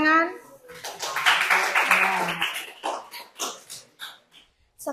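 A short burst of clapping from a small group closes a civics class presentation in an Indonesian teacher-training setting. Voices are heard before and after the applause.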